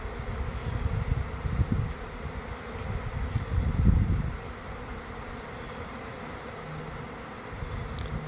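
Honey bees swarming around a hive in the late afternoon make a steady low buzzing drone, swelling briefly near the middle, with light wind noise and no talk.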